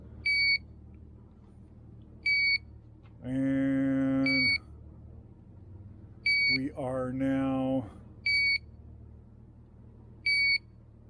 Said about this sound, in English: under 50, and the alarm has gone off.